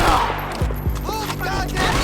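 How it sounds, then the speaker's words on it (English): Gunfire in the video game Max Payne 3, with sharp rapid shots and impacts in a busy mix over music and game noise, with a voice shouting nearby. "I'm getting shot!"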